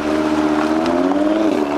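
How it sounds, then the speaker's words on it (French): Audi TT RS with its five-cylinder engine, a loud, steady droning note with a rising harmonic whine, continuous and close throughout, with no talk. "Et ce moteur, ce 5 cylindres, c'est vraiment un moteur mythique."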